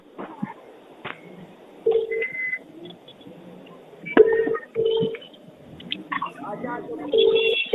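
A telephone keypad beeps as a number is dialled, giving several short touch-tone bursts at uneven intervals, close and moderately loud, mixed with people talking and a faint background murmur.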